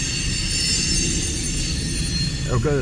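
A freight train with a railcar of high fructose corn syrup rolls past at close range, a loud continuous rumble with squealing wheels holding steady throughout, and a brief voice near the end.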